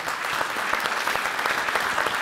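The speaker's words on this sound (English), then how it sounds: "Warm applause" An audience at the Qatar Germany Business and Investment Forum in 2018 claps warmly, a dense, even patter of many hands heard alone, moderately loud.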